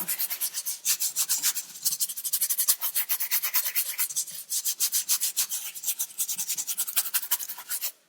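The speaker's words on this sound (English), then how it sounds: "In small areas, give it a really good scrub." A brush scrubs plastic interior trim inside a car, a steady run of quick, close rasping strokes in rapid rhythm with brief pauses, loud and dry with no voices.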